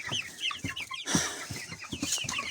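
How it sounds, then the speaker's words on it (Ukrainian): Young backyard chickens kept in a home coop cluck in short repeated bursts, several birds close by with a sharper squawk partway through, no talking. "Так що, так наші курчата."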